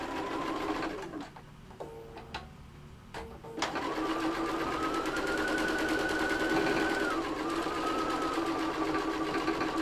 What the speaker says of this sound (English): We're now going to sew the head together.